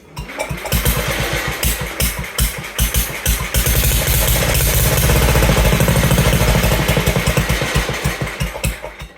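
Sears 10XL garden tractor engine cranks in quick rapid chugs, catches and settles into a loud, steady pulsing run close by, easing off slightly toward the end.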